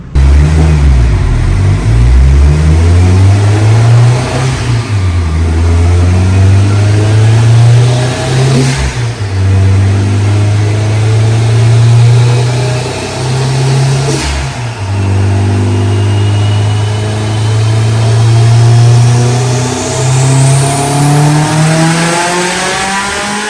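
A Subaru Forester STI of roughly 850 wheel horsepower, running E85, makes a loud dyno pull: the engine climbs in repeated rising sweeps of revs with brief dips between shifts, then winds high toward the end.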